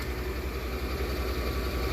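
A Chevy Suburban engine idles just after start-up, a close, steady low rumble with an even pulsing beat throughout the short stretch and no voices over it.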